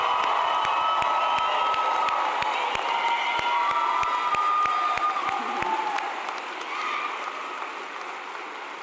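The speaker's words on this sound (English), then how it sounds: "give them a big round of applause and a big cheer for our class of" A college graduation audience applauds and cheers for the class of 2023, with a broad wash of clapping and shouts from a large crowd that slowly fades, punctuated by regular sharp clicks.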